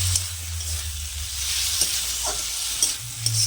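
Potatoes and spices sautéing with mango leather in an oily pan, a steady close sizzle broken by a few scraping stirs of the spatula.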